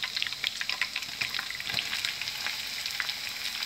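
Onions sizzle and crackle steadily in a hot pan of oil while vegetables cook, a dense bright frying hiss with occasional stirring scrapes throughout.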